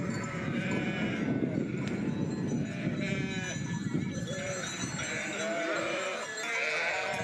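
Sheep bleat on a Sardinian farm near the Emerald Coast, several calls rising over a busy, close background of flock noise and movement, with faint talk and shouted calls to the animals mixed in.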